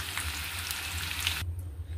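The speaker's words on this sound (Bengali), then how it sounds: "আলুটাকে আমি ভেজে নেবো" Potatoes frying in oil in a kadai give off a steady, close, crackling sizzle over a low hum, and the sizzle cuts off abruptly shortly before the end.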